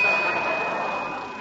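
One struck bell rings out on an old-time radio comedy show, a single clear tone that sustains and slowly fades over about a second and a half.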